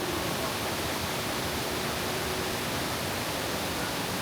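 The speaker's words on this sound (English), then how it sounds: "We have arrived at Mae Ya Waterfall, one of the biggest and most beautiful waterfall in Thailand." Mae Ya Waterfall, one of Thailand's largest at 260 meters tall in a national park, roars with a steady, dense, even hiss of rushing water that fills the whole stretch without a break, with no voices.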